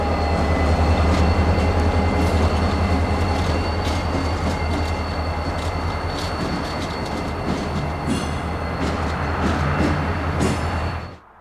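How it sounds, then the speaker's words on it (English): Old EMD switcher locomotive with new electronics and a Huntington, West Virginia-built cab, working a rail line in the Tampa area: a loud steady diesel rumble with rolling wheel noise and faint squeals, fading slightly near the end. "an old EMD switcher with new electronics and Huntington, West Virginia made cab"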